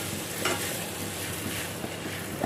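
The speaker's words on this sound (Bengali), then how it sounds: "বাসি রুটিকে বাটার দিয়ে ভাজা" Stale roti frying in butter in a pan, a steady close sizzle with faint stirring scrapes throughout, no voices.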